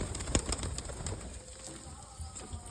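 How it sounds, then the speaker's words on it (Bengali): Pigeons of several kinds being fed outdoors in the morning, soft repeated cooing from a flock close by, with scattered light flutters and pecking under the calls. "কত রকমের পায়রা আছে"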